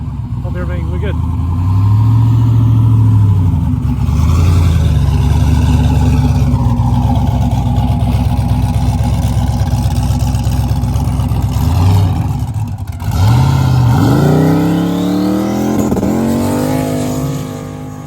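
Turbo Chevrolet Blazer launching and revving on sand dunes at Silver Lake: a loud engine drone that climbs and falls, with sharp rising revs late on and a voice talking throughout.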